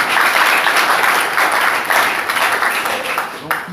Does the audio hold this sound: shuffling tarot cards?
no